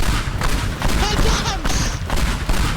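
In the Teardown video game, multiplayer bombs go off as a rapid cluster of sharp, loud blasts and crackling bursts, with a player's excited voice cutting in between the explosions.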